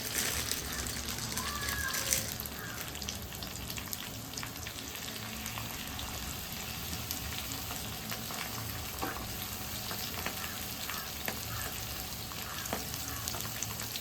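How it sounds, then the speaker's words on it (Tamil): Fish fries in oil with curry leaves and coriander, a continuous soft sizzle and crackle with occasional splatter under a quiet speaking voice. "கருவேப்பிலை கொத்தமல்லி நல்லா எண்ணெயில் போட்டாச்சு அது மேலேயே மீனை போட்டு வறுத்து எடுத்துக்கலாம்"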